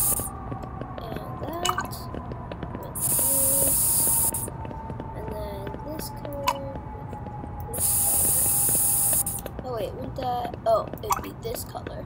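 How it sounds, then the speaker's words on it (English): A spray paint can hisses in two sustained bursts of a few seconds each, with quiet handling and clicks between, while a person talks softly nearby. "So, I'm gonna spray paint."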